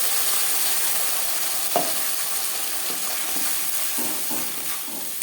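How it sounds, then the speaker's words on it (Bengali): Ginger, green chili and tomato paste frying in oil with panch phoron and bay leaf for a fish head curry, a steady close sizzle broken by a few clacks of stirring. "দশ পনেরো সেকেন্ড পাঁচফোড়ন তেজপাতা ভেজে নেওয়ার পর দিয়ে দেব আদা কাঁচা লঙ্কা ও টমেটোর পেস্ট"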